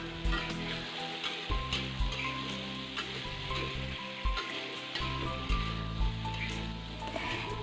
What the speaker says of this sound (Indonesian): Dibutuhkan keuletan dan ketelatenan ya kalau mau sangrai atau goreng kacang kayak gini.